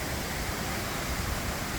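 Rushing floodwater frothing through a stream after Hurricane Helene, a steady broad hiss and rumble of fast-moving water, close and continuous with no talk.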